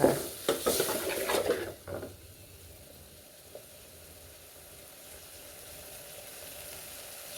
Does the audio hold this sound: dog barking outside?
no